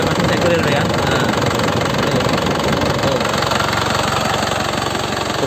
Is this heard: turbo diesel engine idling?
yes